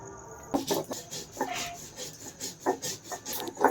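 Poppy seeds being ground on a shil-nora stone, a hand-held stone rolled and rubbed in uneven back-and-forth strokes, close and moderately loud, with no speech.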